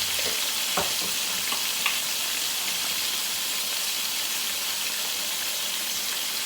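Cumin seeds and dried red chillies sizzle in hot oil for chicken pulao, a steady bright hiss with a couple of faint clinks early on.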